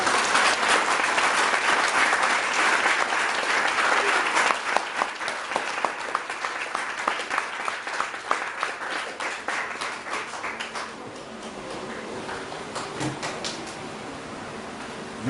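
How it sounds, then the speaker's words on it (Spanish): A church congregation applauding during a sermon service in Santo Domingo, dense loud clapping that thins into scattered individual claps and fades toward the end. "¿Le puedes dar un fuerte aplauso al Rey de Reyes?"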